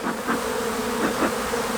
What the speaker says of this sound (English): just to chase the bees away from the frame so we don't squash too many bees